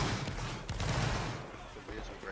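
A ragged musket volley fires on command in a large Egypt battle video game, a dense burst of overlapping gunshots with rolling echo, loud and sustained for about a second, with a voice talking over it.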